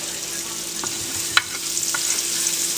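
Peppers sauteing in hot oil, the base for General Tso's chicken, give a steady close sizzle with a few sharp stirring clicks and scrapes from the pan throughout.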